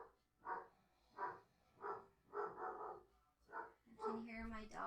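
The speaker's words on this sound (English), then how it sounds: "I can hear my dog barking." A pet dog barks in a home during a quiet yoga session, giving a series of muffled, evenly spaced woofs, roughly six in a row, distant-sounding and soft, with a calm voice joining at the end.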